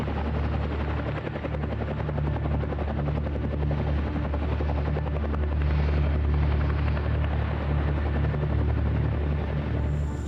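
A CH-47 Chinook twin-rotor military helicopter roars steadily and loudly throughout, its deep rotor thump and turbine whine constant and close during an invasion exercise, with no voices.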